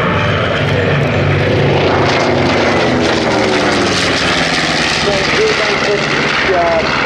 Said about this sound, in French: le B-25 est un bombardier léger qui est né des besoins de la guerre